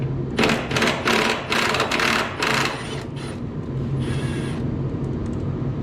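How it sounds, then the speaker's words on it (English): An impact wrench loosens bolts to take the radiator off a Minneapolis Moline A4T tractor. Several loud, harsh rattling bursts come close together, followed by a quieter steady mechanical whir. "Just use the impact."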